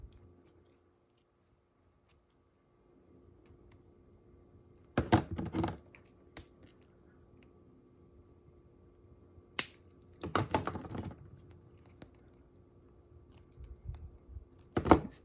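Cutting jewelry wire with snips while wire-wrapping a swirly-frame pendant: three separate bursts of crisp clicks and snips, close and fairly loud, with long quiet gaps between them and no talking.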